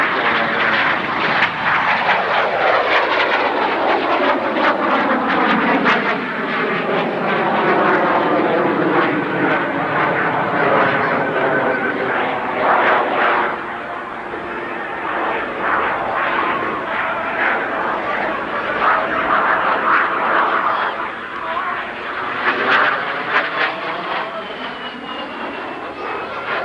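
Italian Air Force Frecce Tricolori jets roar overhead during aerobatic maneuvers at an airshow, a loud continuous engine sound that sweeps in pitch as the aircraft pass, sustained for the full duration.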